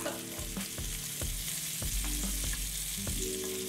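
BBQ meatballs frying in a pan with barbecue sauce, a steady close sizzle broken by repeated clinks and scrapes of a utensil stirring, with no talking.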